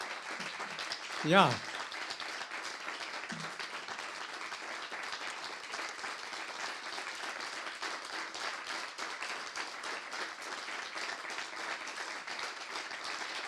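An audience applauds steadily at the Štiglic awards ceremony, a dense, even wash of clapping that carries on throughout, with a brief spoken word near the start.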